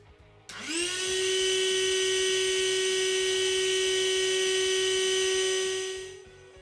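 Ryobi ONE+ 18-volt cordless dual-function inflator/deflator pumping air into a small item through a needle, starting abruptly into a steady high whining motor drone with a rapid pulsing undertone, then winding down after about six seconds.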